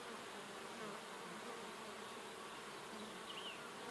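Honeybees at an open horizontal hive during a colony split hum in a dense, continuous buzz, steady and fairly faint, with no voices.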